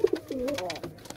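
Fantail pigeons coo in a short, close burst of soft rolling calls that rise and fall over about a second, with a little background noise.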